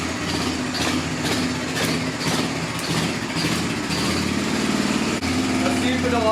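An old, abandoned Honda four wheeler running on stale gas chugs unevenly near by, its small engine pulsing with a rough rhythm and a slight rev toward the end, while a voice talks over it.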